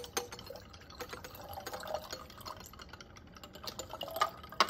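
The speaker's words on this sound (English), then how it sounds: "when I say go, we're going to pour in the chemicals" Chemical solutions for an iodine clock reaction are poured quickly into a laboratory flask, a soft, steady splashing rush with scattered small clicks and clinks of glassware, close by and moderately quiet.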